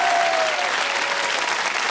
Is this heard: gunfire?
no